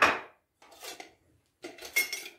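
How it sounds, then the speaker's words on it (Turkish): A pressure cooker lid is closed in a kitchen, heard as three close, sharp metallic clanks and scrapes separated by brief silences. "Sonra düdüklü tenceremin ağzını kapatacağım."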